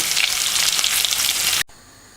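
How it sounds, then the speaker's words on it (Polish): Oil sizzles and crackles loudly as diced onion and celery fry in a pan, then the sizzle cuts off abruptly. "bierzemy olej, kosteczkę cebulkę, e, kawałeczki seler naciowy i to wszystko sobie fajnie, ładnie e, smażymy"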